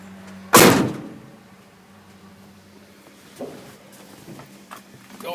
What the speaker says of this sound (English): Door shut, window down.